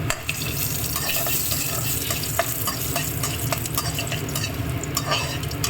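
Chana dal and urad dal crackle and sizzle in hot oil with mustard seeds for a tempering, a steady close frying hiss broken by small pops and stirring sounds throughout, with no voices.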